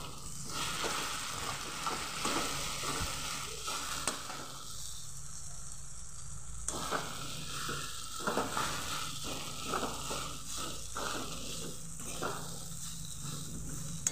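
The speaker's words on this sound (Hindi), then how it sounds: "अब इसको मिलाते हैं।" Poha gets stirred in a hot pan over medium gas, a close sizzle broken by rhythmic scraping strokes of the spoon, a brief quieter dip midway, then steady frying and stirring resumes.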